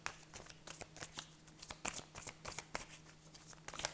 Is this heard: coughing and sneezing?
no